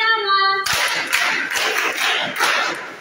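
At a child's birthday celebration, a crowd bursts into brisk, dense clapping after a brief musical tone, the applause continuing loud and close for a few seconds.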